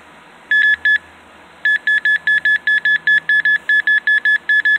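An EMF detector app on an Android Nexus 7 2013 tablet, held near a breaker box, gives two loud beeps, then a long steady run of evenly spaced short electronic beeps with no other sound around them.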